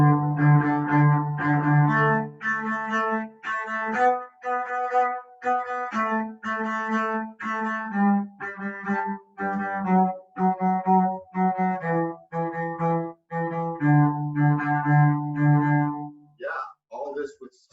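Cellos and basses in a group class play a run of short, stopped bow strokes, each note cut off cleanly in a steady detached rhythm, rich and low, near and fairly loud, with a brief voice at the end.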